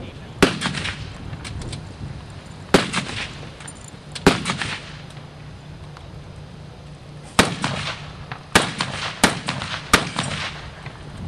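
Blank-fired rifles and a machine gun crack out during a 1944 close-assault WWII reenactment retreat drill outdoors, scattered single shots and short bursts at mid distance with gaps between them.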